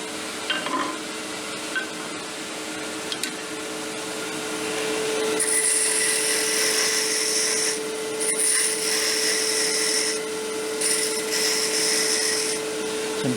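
A ground 1/4 inch round skew cuts detail on a wooden ornament spinning on a lathe, with steady motor hum beneath a grainy, hissing scrape that comes in bursts, close up and without talk.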